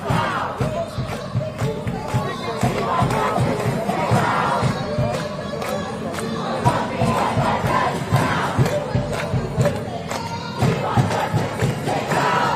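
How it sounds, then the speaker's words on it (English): A large crowd chants rhythmically at a Gaza solidarity protest encampment at Columbia University in New York City, loud repeated collective shouts with pulsing beats over a dense, continuous background of voices. "I'll move through the crowd again"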